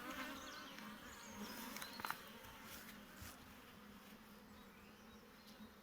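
Honey bees buzz around an open beehive during a frame inspection, a soft continuous droning hum with a few brief louder passes close by.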